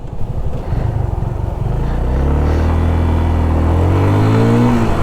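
A Yamaha FZ25 motorcycle pulls away and runs up through its gears on a highway, the engine note rising, dropping at each shift and climbing again, loud and close throughout.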